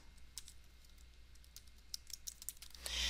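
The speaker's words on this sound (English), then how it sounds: "if I just start typing" Quick bursts of typing on a computer keyboard in Word 365, irregular key clicks tapping away close by at a moderate level, with a louder rustle at the end.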